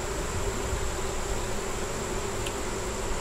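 Honey bees buzz steadily at a hive entrance, a continuous close insect drone with no voices.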